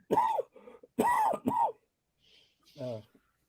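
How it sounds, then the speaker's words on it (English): A person with a chesty cold coughs and clears their throat in a few harsh, rasping bursts, close and fairly loud, followed by a faint short vocal sound. "I'm coughing up green balls right now"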